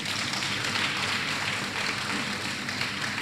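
Audience at a Quality Education Circle 11 town hall meeting applauding, a steady dense wash of clapping that holds at an even level throughout without pause.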